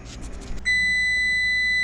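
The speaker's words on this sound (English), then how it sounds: "Timer's going off." A kitchen timer for oven-roasted smoked sausages goes off with a loud, steady high-pitched electronic beep that starts suddenly and holds, close by, after a brief rustle.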